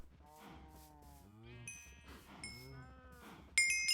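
Cows moo in the Minecraft video game, several overlapping drawn-out calls at moderate volume, and a bright bell-like chime rings out sharply at the end.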